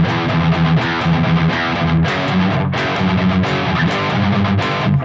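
Heavily distorted electric guitar chugs through a fast metal picking pattern, tight repeated palm-muted notes broken by brief accented strums, loud and upfront with no talking.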